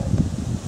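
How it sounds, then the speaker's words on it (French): Wind gusts across a mountain plateau in the Vosges, a steady close rushing buffet with low-frequency microphone rumble and no talking. "Ah, et du vent."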